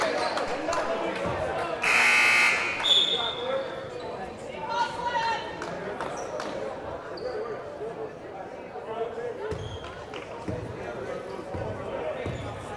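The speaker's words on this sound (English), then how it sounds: "Errant buzzer there, and we will resume play." An errant buzzer sounds briefly at a high school varsity boys basketball game in a gym, a loud burst early on, followed by crowd chatter, shoe squeaks and an announcer talking over the play.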